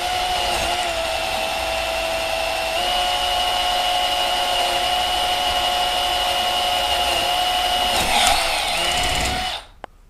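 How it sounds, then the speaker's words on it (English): A power drill whines steadily and loudly for about nine seconds as it bores through cork roadbed, foam and a plywood base on a model railway layout, then spins down and stops. "Now you can end up picking up speed to drill through the plywood base."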